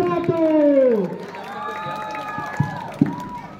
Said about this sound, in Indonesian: Sekali lagi beri tepuk tangan yang meriah untuk peserta dengan nomor undian 1.